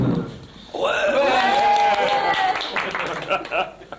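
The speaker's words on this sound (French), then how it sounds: "Vos applaudissements le prouvent." An audience claps and cheers loudly for a few seconds after a brief voice, the applause then thinning out into scattered claps.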